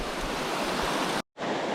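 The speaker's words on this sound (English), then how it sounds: "Little creek, little waterfall, little pool." A small mountain creek spills over a little waterfall into a pool in the Smokies, a dense, steady rushing roar close by that cuts out abruptly for a moment.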